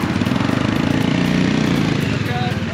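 A Domina 400 motorcycle engine drones loudly and steadily with a rapid rough pulsing as it pulls away, while people talk nearby.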